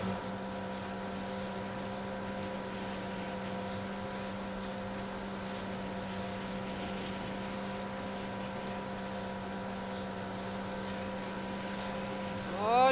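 A jet ski engine drones steadily in the Far Cry 4 video game, a continuous tonal hum with layered harmonics holding an even pitch and level throughout, with a brief louder swell at the end.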